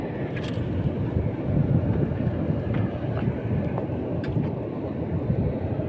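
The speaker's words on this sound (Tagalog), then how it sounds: "Medyo mahangin" Steady, loud wind buffeting the microphone with a constant low rumble and occasional faint clicks, no voices.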